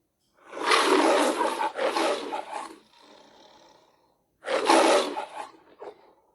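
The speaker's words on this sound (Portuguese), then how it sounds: "O rugido do leão é um som grave ou é um som agudo, hein?" Lion roaring, two deep loud bursts with a breathy rumbling tail, a pause, then another powerful roar, close and alone.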